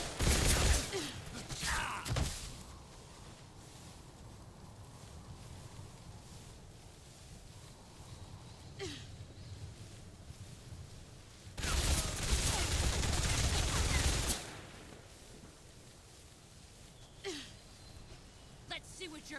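The Boss fires bursts of gunfire in Metal Gear Solid Delta: Snake Eater, with a loud volley at the start and a sustained rattling barrage around 12 to 14 s, separated by quieter stretches with scattered shots and occasional vocal grunts.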